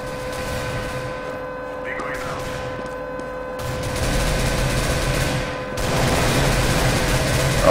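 Gunfire rattles in Counter-Strike: Global Offensive, bursts of shots and a rising rumble of in-game battle noise under a steady electrical hum, with someone talking over it.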